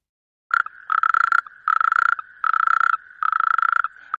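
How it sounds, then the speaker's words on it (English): A toad croaking in four long rapid trilling bursts separated by short pauses, loud and close with a steady tone and no other sound. "Toad."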